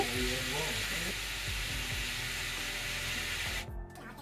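Chicken pieces fry in onion-flavoured oil in a kadai, giving a steady loud sizzle and hiss with faint clinks of stirring; the sizzle briefly dips near the end.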